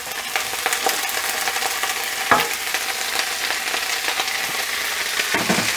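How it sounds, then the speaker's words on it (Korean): Onion and green onion stir-fry over medium heat in a pan, with paprika added, giving a loud, continuous sizzle close up and an occasional scrape of a utensil, with no voices. "이렇게 중불로 놓고 볶다가 양파 향이랑 파향이 올라오면은 파프리카 넣어주시고요."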